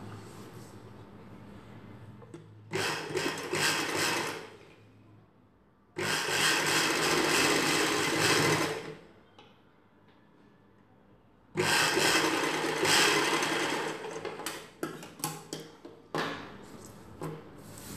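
A sewing machine stitches a folded half-inch hem of cloth for a night dress in three loud, steady runs of rapid whirring, each several seconds long and separated by quiet pauses, followed by a few short bursts.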